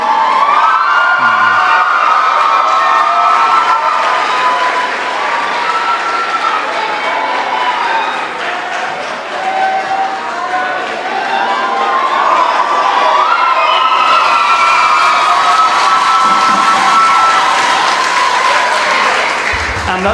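Students clap and cheer loudly for a retiring senior teacher, with continuous crowd applause mixed with excited children's shouts and whoops for about twenty seconds.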